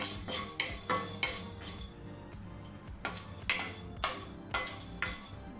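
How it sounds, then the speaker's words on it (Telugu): Black peppercorns and cumin seeds are dry-roasted in a pan and stirred with a metal spoon, giving repeated close scraping clinks in an uneven rhythm over a faint sizzle. The sound is fairly quiet and there is no talking. "ఒక స్పూన్ మిరియాలండి ఒక స్పూన్ సరిపోతుంది మిరియాలు ఒక స్పూన్ జీలకర్ర కొంచెం లైట్గా కలర్ చేంజ్ అయ్యేదాకా వేయించుకోవాలి"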